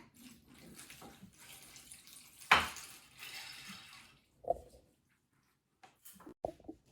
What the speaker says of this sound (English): Then we're going to pour some water in.